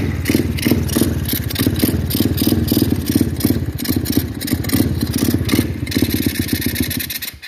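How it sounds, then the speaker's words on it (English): Pit bike engine with the choke on, started and running at a fast, uneven idle, loud and close for several seconds with steady pulsing exhaust beats. "let me try to get her started here. Got her choked."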